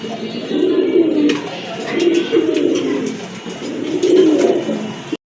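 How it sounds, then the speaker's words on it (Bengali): A pair of red Rajgolla pigeons coo up close, loud and repeatedly, in low rolling bursts over several seconds with small rustling sounds in between. "রাজগোল্লা কবুতর, লাল রাজগোল্লা কবুতর"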